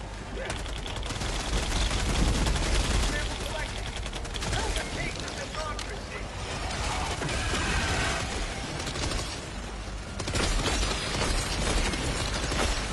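A sentry turret's machine gun fires in Helldivers 2, long rapid bursts of close, loud gunfire with explosions and mechanical clatter mixed in, briefly easing midway before resuming.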